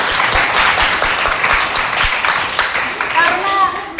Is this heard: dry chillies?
no